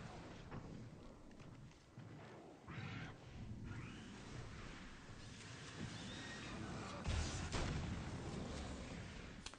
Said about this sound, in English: The Grenadier actually helped us there, accidentally throwing the grenade very close to Wake and also taking out his buddy.